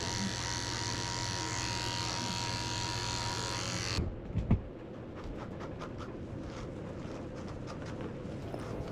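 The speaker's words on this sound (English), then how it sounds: "I'm shaving her whole belly out with a 10 blade also." Electric clippers with a 10 blade shaving a Shih Tzu's belly buzz loudly and steadily up close, then cut off abruptly partway through, leaving quieter handling sounds and a few faint clicks.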